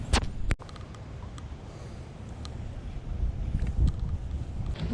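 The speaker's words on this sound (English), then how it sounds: "Windy today too." Wind buffets the microphone while kayak bass fishing on open water, a continuous low rumble with a few sharp knocks near the start and gusts swelling toward the end.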